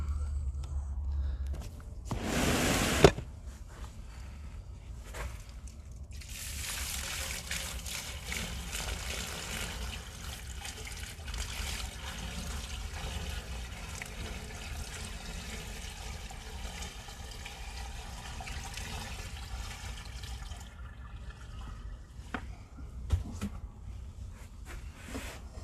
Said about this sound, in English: I'm going to put another few gallons of water down the line.